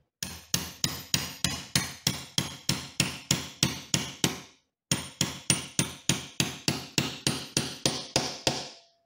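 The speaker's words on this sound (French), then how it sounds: "Il suffit de prendre l'emporte-pièce, le marteau, et on tape." A hammer drives a hollow punch through a small piece of cork: two runs of sharp, evenly spaced strikes, about thirteen blows each, close and loud, with a short pause between runs.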